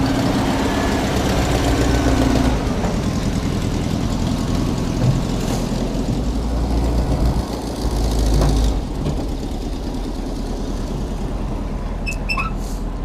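A classic Volkswagen bus engine idles roughly and unevenly up close, a steady low rumble with knocking texture that continues throughout, with a faint shift partway through and no talking.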